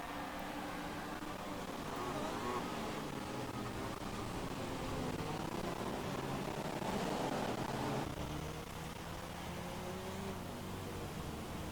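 Safety car engine in F1 2016, a steady, fairly faint droning hum with a broad rushing tone that holds level throughout, with no voices.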